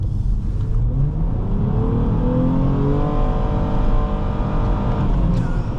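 Steady engine hum and road roar inside the cabin of a 2011 Nissan Maxima SV on the move, a continuous close drone that swells slightly under light acceleration, with no talk.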